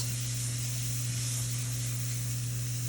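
Seasoning mashed down and stirred in a hot frying pan for a shepherd's pie: a steady, soft sizzle and hiss with a constant low hum underneath and no talking.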